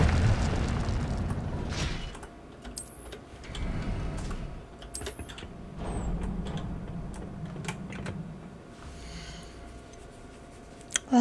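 Incendio fire spell cast in Hogwarts Legacy, producing loud whooshing bursts and booming flare-ups in repeated waves with sharp game effect chimes scattered between them.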